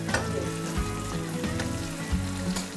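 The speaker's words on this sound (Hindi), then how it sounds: "हम इसमें प्याज डालेंगे और हम इंतजार करेंगे इस जीरा, मिर्च और प्याज के थोड़ी देर तक" Onions, cumin and chili sizzle steadily in oil in a pan, a close, continuous crackling fry with occasional stirring scrapes and no talk.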